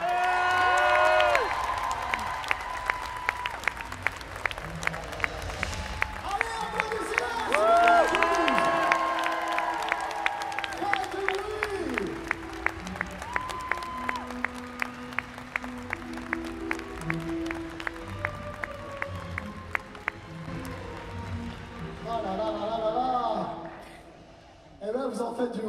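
A convention crowd at TGS 2024 in Toulouse applauds and cheers as actress Bonnie Wright comes on stage, steady clapping with scattered whoops, partly under an announcer's amplified voice, then fading as talk resumes.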